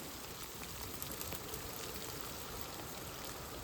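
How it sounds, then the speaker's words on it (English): Steady rain mixed with snow and hail patters evenly outdoors, a dense continuous hiss with faint scattered taps and no voices. "Rain with a side of snow."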